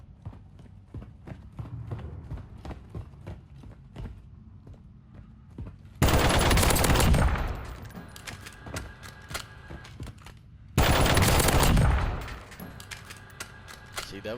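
Hemlock CQB battle rifle firing in a video game: two loud, dense bursts of rapid shots, each about a second long, stand out above a busy background of fainter clicks and game noise.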